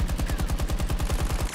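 Rapid automatic gunfire in Battlefield 2042, a steady, evenly spaced stream of close, loud shots over a second and a half with no talk.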